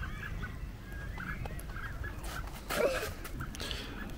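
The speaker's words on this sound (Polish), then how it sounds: "Posłuchajcie, jakie dźwięki wydają ptaki, jak przychodzi kot." Fowl call out at a campsite near the Lim Channel and Vrsar, with a brief louder honking burst near the end over steady outdoor background noise.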